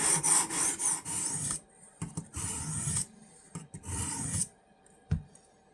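Metal is ground off the edge of an old imp blade on an abrasive surface: a series of close, gritty rasping strokes in short bursts, with pauses between them.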